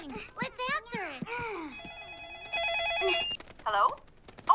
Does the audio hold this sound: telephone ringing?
yes